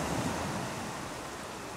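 Sea waves washing in a steady broadband roar, close and continuous with no distinct breaks, slightly mixed with wind.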